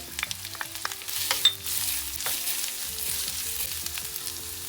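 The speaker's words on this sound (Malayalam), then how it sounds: "3 മിനിറ്റോളം ഉള്ളി ഞാൻ വഴറ്റി." Onion, green chilli and ginger fry in a pan with a clear close sizzle, broken by several sharp stirring scrapes and clicks near the start, with no voices.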